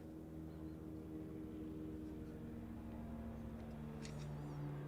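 An airplane passing overhead outside a workshop, a low steady droning hum with tonal engine bands, faint and distant, lasting throughout.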